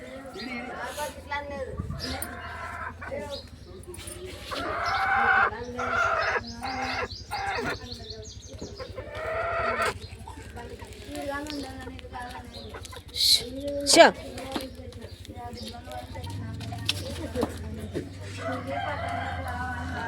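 Chickens cluck and a rooster crows loudly nearby, with other fowl chirping intermittently while people talk over them.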